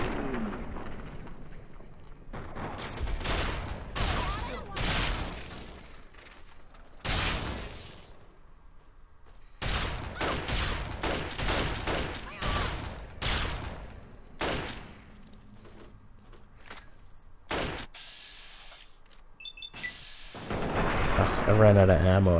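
Bursts of gunfire from the Fallout 3 video game, with repeated shotgun and rifle blasts coming in dense clusters separated by short pauses, loud and close throughout.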